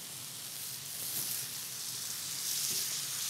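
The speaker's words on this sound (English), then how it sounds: "So we're just going to add a little knob of butter" Butter sizzling in a pan of leeks, a steady faint hiss of frying with soft crackles throughout, no voices.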